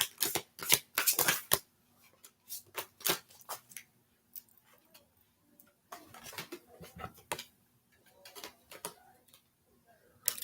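A deck of Heal Yourself Oracle cards is shuffled in repeated crisp bursts of riffling and flicking, separated by short pauses. The cards are close and fairly loud against a quiet room.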